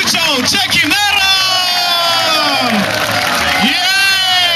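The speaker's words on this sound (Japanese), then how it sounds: "大きな拍手をください" Lively audience at a 2006 Japanese MotoGP talk show event with Honda rider Casey Stoner cheers and whoops loudly throughout, with a host's voice speaking over the steady crowd noise.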